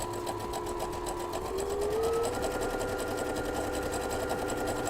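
A sewing machine with a braiding foot stitches decorative lines in a fast, even mechanical chatter, with the motor whine rising slightly in pitch partway through. It sounds close and steady, and nobody speaks.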